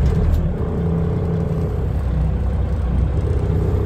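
A 2008 Volvo VHD heavy spec truck engine starting and settling into a steady, loud low rumble close by, with no clear cranking burst.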